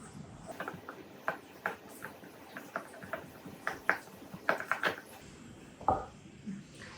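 A spatula folds meringue into macaron batter in a bowl, producing soft irregular taps and scrapes spaced through the stretch, close and fairly quiet.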